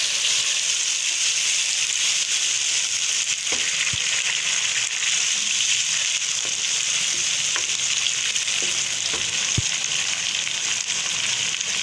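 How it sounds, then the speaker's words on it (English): Tomatoes sauté in a pan for an anda chana curry, giving a loud, steady frying sizzle throughout with a few faint stirring knocks underneath. "So now it's time to add some tomatoes. We will saute it again for 2 minutes."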